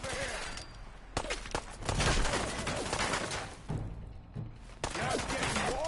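Bursts of gunfire and thudding impacts from the video game Fallout 4 crackle in repeated volleys amid a firefight, with a character's shouted voice mixed into the clatter.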